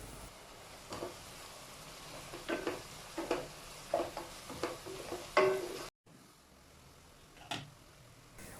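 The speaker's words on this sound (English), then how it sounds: "Let the onion get cooked well." Onions fry in a pan for mutton rogan josh, with a soft sizzle and a series of rhythmic stirring scrapes, about one per second, then a brief pause and one more stir.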